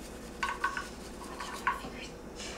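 A knife chopping onion on a cutting board, a few light, sharp taps in two short clusters, close and fairly quiet against a soft room background.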